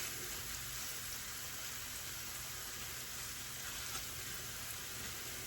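Onion strings frying in oil in a skillet, a steady dense crackling sizzle that stays even and faint throughout, with no talking.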